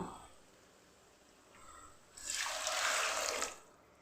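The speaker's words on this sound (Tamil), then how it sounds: "இப்போ இதுக்கு தண்ணி ஊற்றிக்கலாங்க" Water pours into roasted ragi flour in a pan, a close, bright splashing stream lasting over a second after a quiet start.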